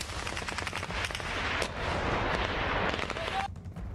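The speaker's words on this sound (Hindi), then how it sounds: "तालिबान के लड़ाकों ने पंजशीर पर कब्जे का दावा करते हुए काबुल में जबरदस्त हवाई फायरिंग की" Celebratory aerial gunfire crackles through the streets of Kabul as Taliban fighters fire into the air, dense overlapping bursts of automatic shots echoing continuously before cutting off abruptly near the end.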